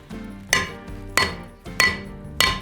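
Four evenly spaced hammer blows ring out on hot metal at an anvil, each a bright clanging strike with a ringing tail, as a blacksmith forges the scarf on an iron bar for an 18th-century-style trivet.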